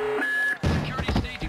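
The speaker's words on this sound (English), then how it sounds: "Alarm stage two." In the stealth video game Splinter Cell: Essentials, a steady electronic alarm beep sounds briefly, then a voice speaks over the game's background noise.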